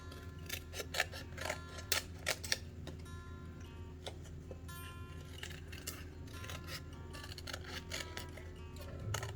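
Scissors snip out a rose tattoo for a resin bookmark, a quick series of close, crisp cuts in the first few seconds, then softer, steadier snipping continuing alone.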